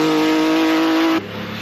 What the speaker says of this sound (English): Ferrari make a 6 sound like a 12